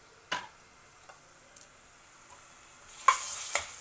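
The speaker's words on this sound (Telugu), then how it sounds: "ఉల్లిపాయలు కొంచెం ఎర్రపడ్డిన తర్వాత మనం అల్లం వెల్లుల్లి ముద్ద వేసుకొని వేయించుకోవాలి." Onions frying with ginger-garlic paste for rajma masala: quiet sizzling with a few scattered stirring clicks, swelling into a louder, steady hiss over the last second.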